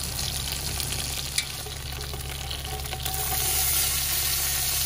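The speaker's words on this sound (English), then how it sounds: "And I'm coming in with the Tasso. We cook all that at the same time. And we're gonna get this fried down pretty good." Sausage and Tasso fry in a pot for Cajun alligator sauce piquante, giving a steady close sizzle with a faint clink partway through. The sizzle swells a little louder toward the end, and no one speaks.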